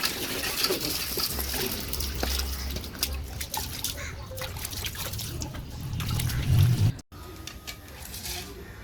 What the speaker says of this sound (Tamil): நம்ம மீன் கழுவிக்கலாம்